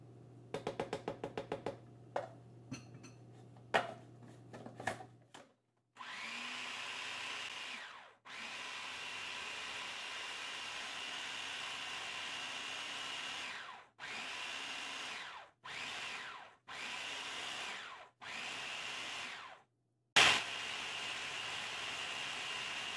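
Electric mixer beating cranberry orange scone dough, a steady motor whir running in bursts with brief stops and restarts, preceded by clicking and a low hum.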